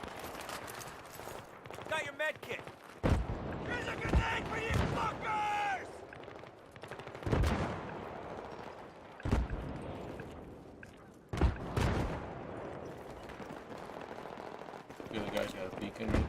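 Gunfire in the PS3 game Battlefield 3 during a live stream: repeated bursts of automatic fire and single loud shots mixed with explosions and game effects, under frequent talk from players.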